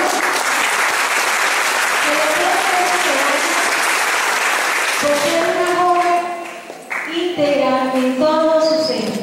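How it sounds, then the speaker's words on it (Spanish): A crowd at a high school graduation ceremony applauds a student receiving a medal, giving a loud, dense burst of clapping that fades as voices and speech come through toward the end. "Fuerte aplauso."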